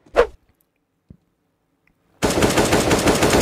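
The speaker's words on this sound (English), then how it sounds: "that is a beautiful little wallbang you got yourself going over there" Rapid automatic gunfire from the CS:GO video game on the Vertigo map, fired through a wall in a competitive match, erupts loud and sustained after a sharp opening shot, a faint tap and near silence.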